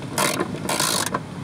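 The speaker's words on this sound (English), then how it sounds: "Now get your 10 millimeter and let's tighten these down" A 10 mm ratchet snugs down bolts on a car's blower motor, giving two quick bursts of dense, close clicking from the pawl, with a short pause between them.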